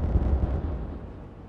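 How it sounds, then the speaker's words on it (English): Rumbling explosions in the Timberborn video game: a dense, loud low roar with continuous crackling debris that slowly fades over a second and a half, with no voices. "More explosions."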